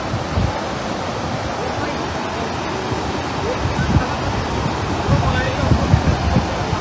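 Strong rushing floodwater roars without a break as a dense wash of noise, loud and near, swelling slightly toward the end, with wind buffeting the microphone.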